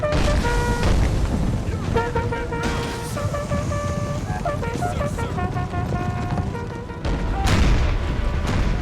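Deep artillery booms from a Total War: American Civil War battle, with heavy blasts near the start and a louder burst around the seventh second, set over sustained tonal game music and steady battle rumble.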